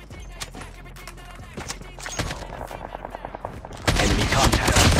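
In Call of Duty Mobile, AK-47 fire crackles in rapid bursts of shots, then builds into dense, loud sustained gunfire near the end.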